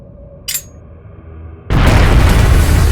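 A bomb goes off in Trails of Cold Steel: a brief whoosh, then a sudden, very loud explosion that sustains as a broad roaring blast to the end.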